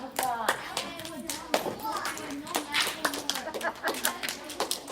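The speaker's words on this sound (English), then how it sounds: "Give yourselves a round of applause." A class of children claps at the end of a math lesson, sharp, uneven hand claps close by, mixed with children's voices talking over them throughout.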